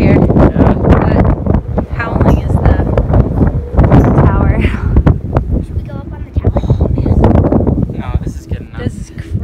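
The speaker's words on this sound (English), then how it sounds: "it's pretty windy up here" Strong wind buffeting the microphone at a high viewpoint over a corn maze in Maine, loud continuous rumbling gusts with people talking over it.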